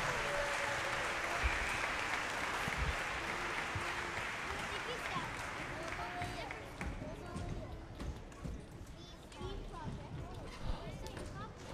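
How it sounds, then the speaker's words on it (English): Audience applause for school orchestra students at a lower school spring concert: a sustained wash of clapping that thins out toward the end, with a voice speaking over it. "they deserve a second round of applause for all the hard work it takes to really make that happen"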